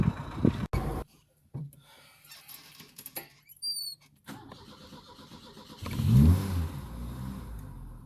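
A 1977 Ford Taunus 1.6 GL with its engine running while reversing gives a faint idle hum broken by clunks and short high squeaks, then swells into a brief louder surge near the end.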